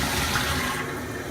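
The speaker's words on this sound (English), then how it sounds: "I'm going to flush this toilet, and you'll notice that it's pretty vigorous." A pressure-assisted toilet flushes vigorously with a loud, forceful rush of water that holds steady and then eases slightly toward the end.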